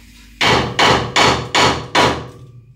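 Five evenly spaced, heavy hammer blows ring out against the steel suspension of a 2011 GMC Sierra 1500 during a 2.5-inch leveling kit install, each strike loud and close with a short metallic decay.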